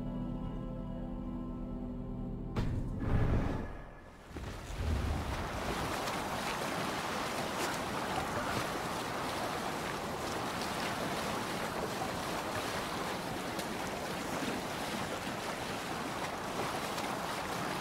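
A Viking longship under sail in Assassin's Creed Valhalla, a brief thump giving way to a continuous rush of waves and wind against the hull, close and steady with no voices.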